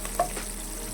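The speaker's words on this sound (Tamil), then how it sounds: "கொஞ்சோண்டு கருவேப்பிலை, ஓகே, அப்புறம் பச்சை மிளகா, 4-5 பச்சை மிளகா, ஓகே, இதுவும் வறுத்துக்கணும்" Curry leaves and green chillies fry in a hot pan for paruppu curry, giving a steady close sizzle with one brief louder crackle.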